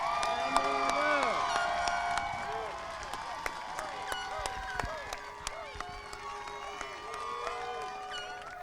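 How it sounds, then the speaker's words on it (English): Mount Clemens High School's 2021 commencement audience applauds and cheers the graduating class: sustained clapping from a large crowd, pierced by repeated shrill whistles and shouts, moderately near and lasting several seconds. "Please give a large round of applause for the 2021 graduating class of Mount Clemens."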